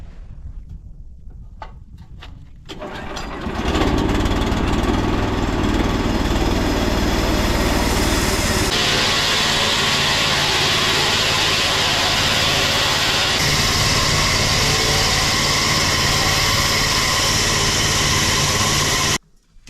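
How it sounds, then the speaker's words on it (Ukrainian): A small engine on a homemade sawmill starts with a few sputters, then runs at a steady loud drone for a long stretch before cutting off abruptly. "Перед тим як різати, запускаю двигун, щоб він прокрутився"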